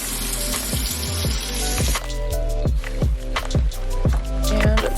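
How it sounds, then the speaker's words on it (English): Hot water runs from a kitchen tap into a sink, making a steady loud gush with splashing and a few clunks as the basin fills. No one speaks. "So let me fill up my sink here."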